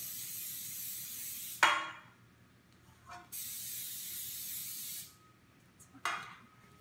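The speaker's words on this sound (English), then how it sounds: "spray your pans with non-stick spray" Three short bursts of aerosol spray hiss out, each sharp at the start and then steady for a moment, with quiet pauses between them.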